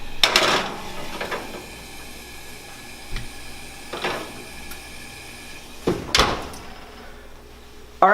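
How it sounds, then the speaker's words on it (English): An omelette pan slid into a kitchen broiler with the oven door handled, giving a few separate metallic clanks and door thuds at irregular intervals, the loudest near the end, in an otherwise quiet room. "You're gonna drop this in the broiler."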